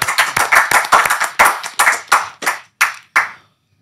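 Clapping for a group of hijab-wearing musicians: about a dozen crisp, close hand claps in a steady rhythm that gradually slows and stops, with no talking.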